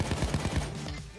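M16 fire in Payday 2, a quick series of about six sharp, evenly spaced shots that fades into a quieter tail, with some talking in the background.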